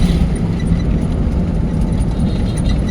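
Car engine running steadily while driving at low speed in third gear, a loud continuous low rumble close by, with no talk heard.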